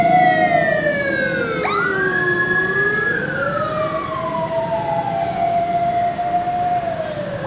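Wailing sirens from a funeral procession on a main road in Sulawesi, heard from a passing car: several rising and falling electronic tones overlapping and sweeping steadily, loud and close throughout over road rumble.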